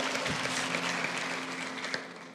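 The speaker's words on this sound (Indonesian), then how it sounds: "Kasih tepuk tangan untuk Tuhan Yesus, haleluya." A church congregation claps during a sermon, producing a steady, moderately loud patter of applause over a faint sustained tone that fades slightly toward the end.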